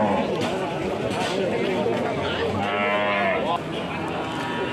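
Cattle mooing at a livestock market in Pati, Indonesia, amid a busy crowd of chattering voices, with a long low moo standing out over the noisy market din.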